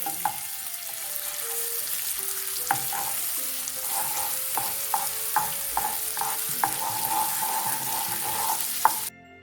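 Caramel of sugar and butter cooks on a low flame for payasam, giving a constant soft bubbling hiss with light, regular spoon scrapes and taps against the pan. No one speaks.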